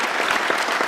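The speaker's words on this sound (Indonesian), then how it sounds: "boleh diberikan tepuk tangan Pak Jokowi" Audience applause at a presidential candidate event, a brief burst of dense, steady clapping from a crowd, with no voices over it.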